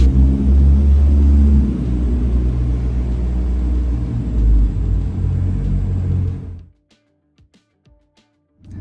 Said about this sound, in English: It's still so fun driving a convertible